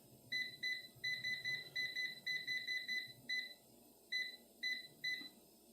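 Control panel of a COSORI TwinFry air fryer beeping as it is set: a quick run of short, crisp electronic beeps in a stepped rhythm, then a few spaced beeps, close and clear over faint room noise.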